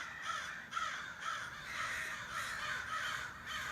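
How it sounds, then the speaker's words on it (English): Several crows caw repeatedly outdoors, a steady chorus of rough, mid-distance calls that rises and falls with no talk over it. "Excuse the crows."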